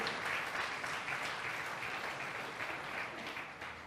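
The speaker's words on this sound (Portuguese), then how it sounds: "Aplaude mais uma vez" Continuous applause from a church congregation during a Portuguese sermon on family, dense, even clapping filling the space and easing slightly toward the end.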